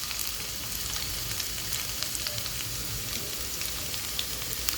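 Potatoes frying in a pan for ghugni, a steady close sizzle with small crackles and pops throughout and no talking.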